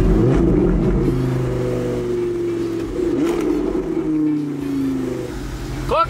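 A Lamborghini engine hums loud and close, holding a strong, slowly gliding tone that dips and swells as the car is driven along.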